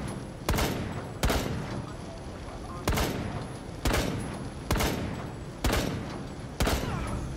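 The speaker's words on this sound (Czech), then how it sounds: "Akorát tady už po mně střílí další" Rainbow Six Siege gunfire: seven sharp, loud shots at roughly one-second intervals, each with a short ringing tail over a steady background hum.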